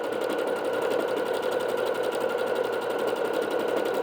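A Bernette B-77 sewing machine stitching steadily at close range, a loud, continuous mechanical whir with a fast even needle rhythm and no pauses, with no voices over it.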